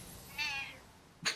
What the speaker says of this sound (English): That is a not-happy cat.